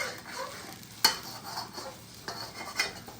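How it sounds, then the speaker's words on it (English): Onions and peppers for pepper steak cook in a pan while a utensil scrapes the bottom, with a sharp metallic scrape near the start and softer scraping strokes over a light sizzle. "These onions and these peppers, because they're not done enough. This is doing it. And meanwhile, I scrape the pan"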